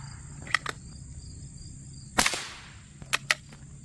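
CCI Quiet .22 LR rounds fired from a Savage Rascal youth rifle outdoors: a few sharp, fairly quiet pops, two early, one louder crack midway with a short decay, then two more close together near the end.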